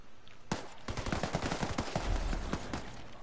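Rapid automatic gunfire in the Ghost Recon video game, a dense rattling burst of close shots firing in quick succession with heavier booming reports mixed in.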